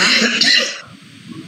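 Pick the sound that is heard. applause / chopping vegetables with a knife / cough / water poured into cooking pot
cough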